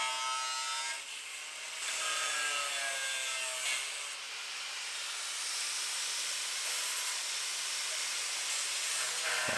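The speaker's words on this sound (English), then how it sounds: "Now we get the grinder of death out." A grinder cuts pieces out of a 2015 Mustang coupe's bodywork, producing a loud, continuous harsh hiss and whine that wavers in pitch as the cut proceeds, with nobody talking.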